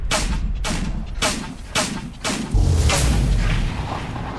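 Heavy booming impacts from Baranor's signature move attack in the Middle-earth game Shadow of War's Desolation of Mordor, several loud thuds in quick succession followed by a deeper rumbling blow.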